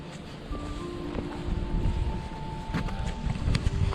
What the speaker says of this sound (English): This is August, but look at the wind.